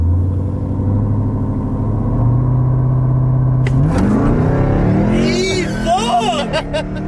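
A Jeep Trackhawk held on the foot brake at about 2,000 rpm with launch control, then launching hard and revving up sharply with rising engine pitch, loud and close, with people talking over it.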